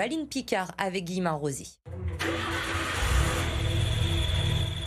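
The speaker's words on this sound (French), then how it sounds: "C'est un bruit de moteur qui fait plaisir à entendre." A Renault 4L's engine turns over and settles into a steady running idle after a clutch repair. A voice speaks first, then a short pause, then the continuous mid-pitched engine drone.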